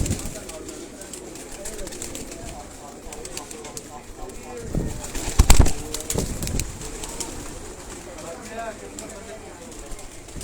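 Batera and Kasuri pigeons keep up a low cooing at a Sialkot loft while people talk nearby, broken midway by a brief loud clatter.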